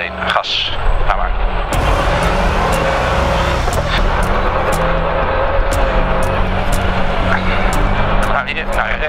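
A Dakar Rally car revs and pulls away from a stage start, its engine roaring loud and close from inside the car with a steady drone and sharp bangs, while people talk over it.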